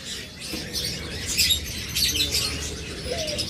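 Caged lovebirds, cockatiels, budgerigars and finches chirp and whistle continuously in a busy aviary chorus, bright overlapping calls close by over a steady background hum.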